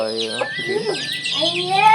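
Hens cluck and murmur in a poultry shed, a steady close-up chorus of fowl calls running through the whole stretch with no talk over it.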